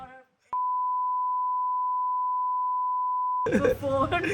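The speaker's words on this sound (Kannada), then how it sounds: "ಬೀಪ್" A steady censor bleep covering a spoken phone number holds one unbroken pure tone for about three seconds, then gives way to people talking at close range.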